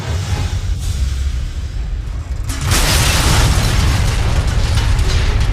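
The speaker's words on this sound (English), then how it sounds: "This leads to an explosion which blows out the building." In the video game Fire Department, an explosion blows out a building: a low rumbling buildup gives way to a loud, sustained blast and roaring debris that continues to the end.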